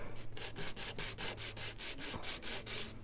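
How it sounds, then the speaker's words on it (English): A banjo bridge rubbed back and forth on sandpaper laid on a flat surface, light pressure, giving a steady run of rhythmic close scratchy strokes with no talk over it. "we're just going to get on this flat surface with our bridge and just carefully rub back and forth"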